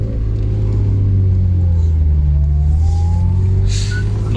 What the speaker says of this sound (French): on va faire le premier tour pour chauffer la voiture